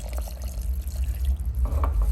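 Water poured over guajillo and árbol chiles, garlic and salt for a red salsa makes a brief, close splashing rush with some bubbling, heard without any talking.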